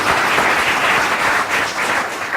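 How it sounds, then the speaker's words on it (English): Steady, dense applause from an audience at a council swearing-in ceremony, a sustained wash of clapping at even loudness throughout. "give her a round of applause"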